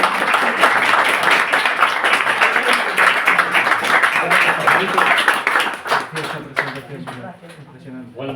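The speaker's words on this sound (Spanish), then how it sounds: "Bueno, un aplauso" An audience applauds at a novel's book presentation in Oviedo, a full, dense round of clapping that fades toward the end as a speaker begins talking.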